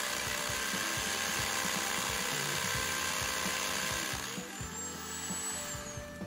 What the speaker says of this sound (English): we drilled the concrete for anchors and attached the legs to the floor